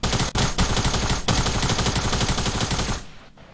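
Rapid sustained bursts from a gold attack SMG in a video game, loud dense automatic fire rattling for about three seconds before cutting off abruptly.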